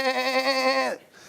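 A goat bleats alone in one sustained, wavering cry about a second long, loud and close, then cuts off into near silence.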